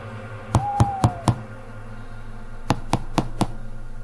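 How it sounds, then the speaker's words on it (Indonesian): Someone knocks on the door of a house at night, giving four firm knocks, then a pause, then four more at the same steady rhythm over a low background hum. "Terdengar suara ketukan pintu di rumah kami malam itu."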